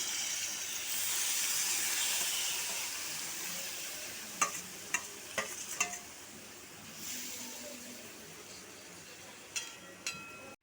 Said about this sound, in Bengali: এবার আমি যে মাছ আর বেগুন টেগুনগুলো একসঙ্গে মেখে নিয়েছিলাম ওটা আমি কড়াইয়ের ভিতরে দিয়ে দেবো।